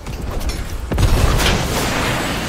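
A sudden heavy boom from an explosion in Fortnite lands about a second in, after a quieter stretch, then a broad rumbling roar sustains loudly to the end.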